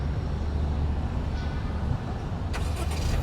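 A Honda Civic, a small compact car, starts up: a steady low engine rumble holds throughout, and a brighter rise of broadband noise near the end suggests the idling motor and the interior air conditioning coming on. No one speaks.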